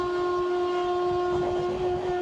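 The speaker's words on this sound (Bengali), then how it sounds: "আমাদের ট্রেন এখন ক্রস করছে ফ্ল্যাট 110 স্পিডে টিটাগড়।" Train running at 110 km/h past Titagarh on a Sealdah–Bandel run with LHB coaches, a loud steady rumble of wheels and carriage with a sustained tonal whine on top, heard from on board.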